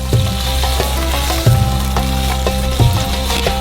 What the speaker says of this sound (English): Butter hits the pan and cooking begins. Onions and tomatoes join in.